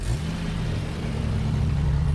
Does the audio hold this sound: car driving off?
yes